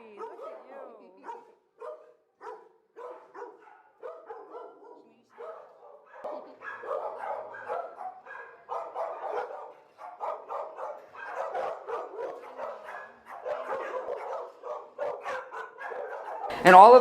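Dogs in animal shelter kennels bark in repeated short bursts, several voices overlapping, growing busier over time, moderately close with a sharp loud burst at the end.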